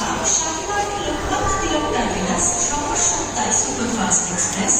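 Large passenger train interior, broad steady rumble and rail noise throughout with faint high hiss, close and continuous.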